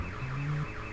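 A car alarm near a car thought to be a Ford Fusion wails with a continuous electronic siren sweeping up and down in fast repeating cycles, loud and steady, with no voices over it.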